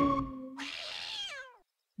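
A cat meows in the video game UFO: A Day in the Life, a single drawn-out, falling cry that is near and fairly loud, following an earlier short tone and standing alone without talk.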